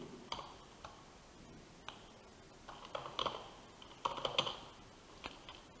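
Computer keyboard keys clicking in a quiet room: several faint, sharp taps spaced irregularly, with a few bunched clicks near the middle and end.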